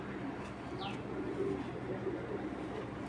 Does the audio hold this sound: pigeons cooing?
yes